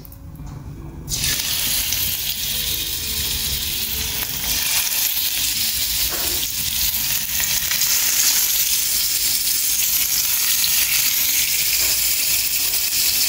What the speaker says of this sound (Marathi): पॅन हिंगा रेडी हा विथ ऑयल आनी ऑयल न्ही बरें गरम जाला गाईज आनी आमची फिशूय हिंगा रेडी हा to go on the pan